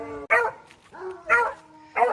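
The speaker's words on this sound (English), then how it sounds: "Oh my gosh, the dogs are howling." Several dogs bark and howl close by in a shaded garden, three loud harmonic bursts separated by a sustained, wavering howl with brief lulls between.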